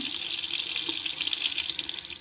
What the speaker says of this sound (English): See the water running.